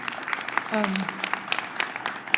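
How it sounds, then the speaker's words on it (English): Scattered clapping with sharp broadband claps spread across the clip, moderately loud, with a brief voice-like tone partway through. "So a big round of applause for our tour guides that you all got to meet."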